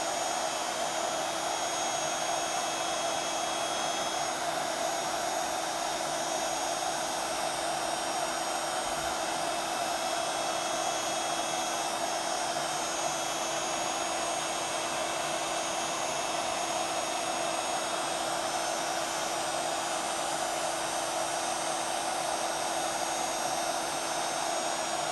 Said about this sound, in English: we're just going to hold the heat gun still